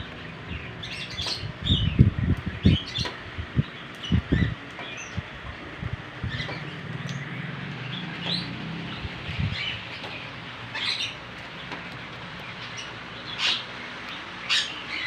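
A month-old blue eye-ring lovebird chirps in quick, high bursts scattered across the clip, with a few louder flutters and knocks near the start and no talking.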